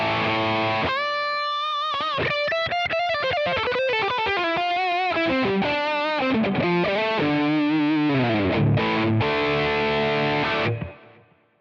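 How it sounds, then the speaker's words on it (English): Heavily distorted high-gain electric guitar, a PRS SE Studio Standard, plays a fast riff with bends and sustained notes, loud and up close, then rings out and fades at the end. "And then if you just want to go much more high gain,"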